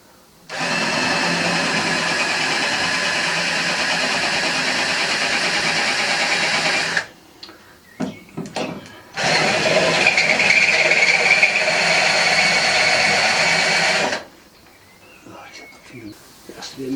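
Step drill bit (Christmas tree bit) boring into metal, two long loud whining drill runs of about six and five seconds, separated by a pause filled with small clicks and handling noises.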